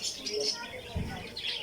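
Small birds near a nest chirp in short, faint, high bursts over a quiet outdoor background, with a little talk nearby.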